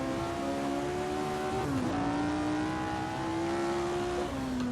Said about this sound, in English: A little early downshift.